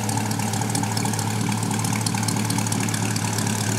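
A 2020 C8 Corvette with a Soul Performance full exhaust idles steadily and loudly up close, a deep, rumbling, continuous throaty drone with no talking.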